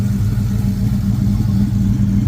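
An LS-swapped Chevrolet Monte Carlo G-body with over 400 hp, a sloppy stage 2 cam and 799 heads rumbles steadily and deeply up close, with no voices over it.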